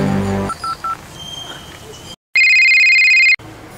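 Voices briefly, then a loud electronic ring tone sounds for about a second before falling silent.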